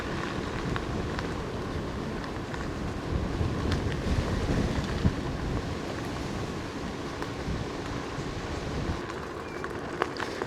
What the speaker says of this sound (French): désolé si vous entendez du vent, hein, mais là ça souffle vraiment fort.